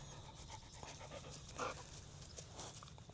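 A Great Pyrenees puppy pants in quick, quiet breaths while playing with other dogs on a farm pasture, faint and somewhat distant against low background noise.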